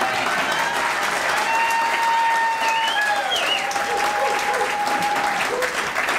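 Audience applause rises at a panel event for the film The Devil's Backbone, a dense, even clapping that carries on for several seconds with faint voices mixed underneath.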